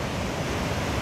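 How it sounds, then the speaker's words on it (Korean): Steady broadband wash of ocean surf at Venice Beach, California, a continuous rushing roar without distinct breaks, fairly loud and close, with no voices. "이 물소리가 너무 좋아요."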